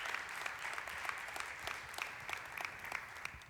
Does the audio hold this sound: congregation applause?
yes